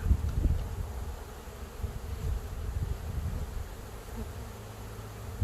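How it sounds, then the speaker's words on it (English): Honey bees buzzing around a newly installed hive outdoors, a continuous close swarm hum with light wind and rustle underneath. "You guys see all these bees up in here? They're still staying around the main hive there."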